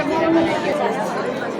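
Dense crowd chatter near a Kalubai goddess temple at a new-moon Pushya Nakshatra gathering, many voices blending into a steady, loud murmur close by with no single speaker standing out.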